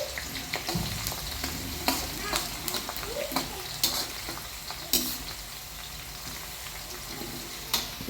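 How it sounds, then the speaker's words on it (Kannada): Onions fry in hot oil with a constant dense sizzle, broken by scattered clicks and scrapes of a spatula stirring the pan, some sharper knocks standing out, and faint talk in the background. "ಉಳ್ಳಾಗಡ್ಡಿ ಫ್ರೈ ಆಗ್ಬೇಕು ರೀ"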